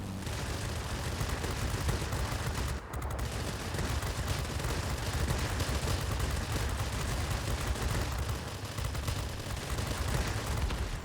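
World of Warplanes aircraft guns, .50 cal and 20 mm cannons, fire in a dense, sustained roar that runs almost unbroken with only a brief gap early on, loud and continuous with no talking.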